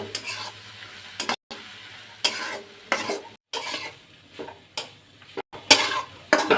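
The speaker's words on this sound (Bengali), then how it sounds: "এখন আমি নাড়াচাড়া করে একটা পুরের মতন বানিয়ে নেব" Egg and onion momo filling is stirred in a frying pan, with repeated scraping strokes of a utensil against the pan over a soft sizzle, separated by brief pauses.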